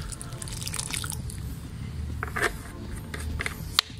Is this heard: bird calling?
no